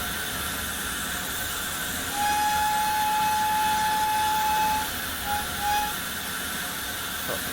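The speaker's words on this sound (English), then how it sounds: "That's sort of the reason for the safety valve, to let off steam" Steam hisses steadily from the safety valve of a GWR autotrain locomotive on the Falmouth branch in Train Simulator. A thin whistle-like tone rises over the broad hiss for a few seconds, followed by two short blips.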